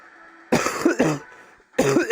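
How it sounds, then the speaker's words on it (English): Two harsh, raspy coughing fits from a man, close and loud, the first a cluster of several hacking coughs, then a brief pause before another burst begins. "Listen to that cough."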